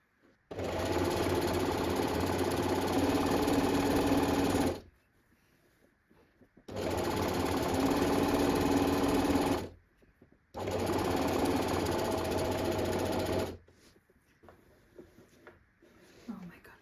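A sewing machine stitches the final seam of a garment in three sustained, even runs of a few seconds each, separated by short pauses, loud and close.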